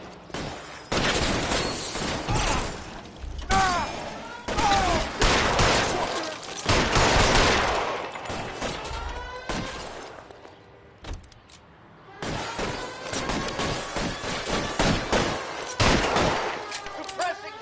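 Gunfire in the video game L.A. Noire: loud, sustained volleys of shots in dense bursts, a brief lull partway through, then heavy firing again.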